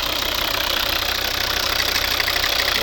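Close up, a Volvo V60 2.0 D3 diesel from 2011 ticks over at a smooth, even idle, a steady mechanical hum and clatter holding level throughout, no one speaking.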